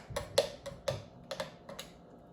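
A spoon stirring coffee grounds and water in a glass French press gives light, sharp clinks and taps against the glass, about eight irregular strikes spread over two seconds, close and clear.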